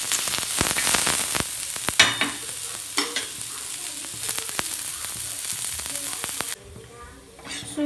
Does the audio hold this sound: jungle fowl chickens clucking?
no